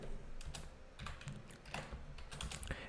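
Keys clack in quick irregular bursts as code is typed on a computer keyboard, quiet and close with no voice.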